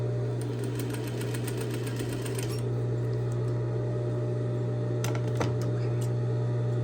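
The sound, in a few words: sewing machine sewing a seam with backstitch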